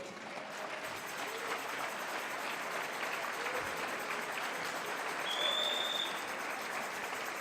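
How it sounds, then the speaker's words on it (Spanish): A church congregation claps together for Jesus, a steady wash of applause that holds at one level throughout, moderately distant and diffuse, with a faint voice under it. "¿Alguien le puede dar una ofrenda de palmas a Jesús?"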